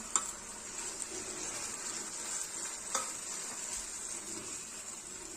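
Ground masala paste sautéing with tomato puree in a pan for dhaba-style garlic fenugreek curry, a soft continuous sizzle with a few faint spoon taps, quiet and close, without talking.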